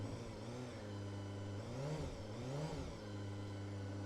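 A close Honda CBR250RR motorcycle engine idling steadily on choke at a cold start, then revved in a couple of quick blips that rise and fall before settling back to a smooth idle.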